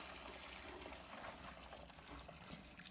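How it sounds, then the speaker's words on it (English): Water running over nixtamalized corn in a strainer as the lime and loosened outer skins are rinsed away, a steady close trickle and splash that continues without a break. "And you want to rinse off all of the outside layer and the lime off of the corn."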